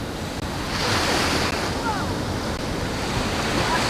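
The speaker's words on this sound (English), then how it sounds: "Brian and Tina doing a little swimming in the surf before we pack up and go home today." Ocean surf rolls steadily onto a beach in Mexico, a loud continuous wash of breaking waves with wind buffeting the microphone throughout.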